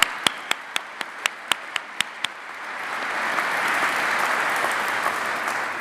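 Graduation audience applause at a College of Social Sciences ceremony begins with a few sharp, separate claps close by, then swells into a broad, steady round of clapping from the hall.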